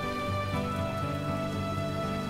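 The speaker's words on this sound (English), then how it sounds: "Some serious rain." Heavy rain in The Witcher video game gives a steady, even hiss beneath sustained in-game music tones, with no talking.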